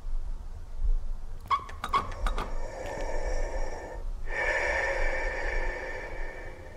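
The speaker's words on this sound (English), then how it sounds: "Why are you breathing like that, dude?" A character in the horror game Bloodwash breathes heavily, with a cluster of sharp snorting gasps followed by long, ragged, drawn-out breaths, close and fairly loud.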